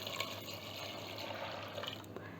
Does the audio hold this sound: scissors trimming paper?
no